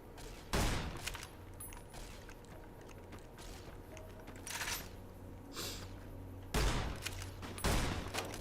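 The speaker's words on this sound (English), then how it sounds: "Some good shooting there" Sharp, loud gunshots from Fallout: New Vegas in Freeside ring out in a few separated bursts, with quiet ambient stretches in between and no talk over them.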